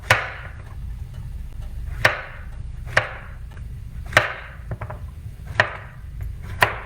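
A knife slices zucchini and summer squash into quarter-inch rounds on a cutting board, giving about seven crisp, evenly spaced thuds close up, with no talking.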